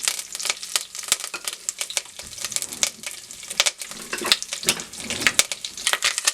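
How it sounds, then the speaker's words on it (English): Pandan leaves, curry leaves and cinnamon crackle and sizzle in hot oil with whole spices for a Sri Lankan chicken stew, with a steady close frying hiss broken by sharp spitting pops and a few stirring scrapes. "into that going to add the pandan leaves, curry leaves and the cinnamon"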